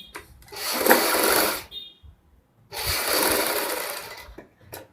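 A sewing machine stitches the neckline of a kameez front in two loud, sustained runs of rapid motor whirring, each lasting over a second, separated by a short pause and a few light handling clicks.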